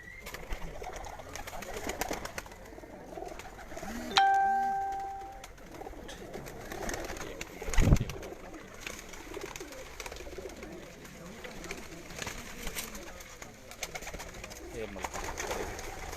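Pigeons at a rooftop pigeon-flying competition coo softly in the background amid outdoor chatter and crowd noise, with a brief whistle-like tone and a thump in between.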